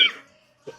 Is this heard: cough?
yes